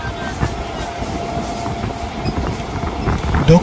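An Indian local train running on the tracks after leaving Bethuadahari, heard from inside as a loud, steady rumble with rhythmic clickety-clack from the wheels.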